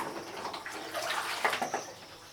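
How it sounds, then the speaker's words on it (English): Plastic poultry feeders and drinkers for a brooder are dunked into a container of bleach-disinfected water, giving close splashing and sloshing with a few sharper knocks. "I immerse them inside the bleached water or the disinfected water."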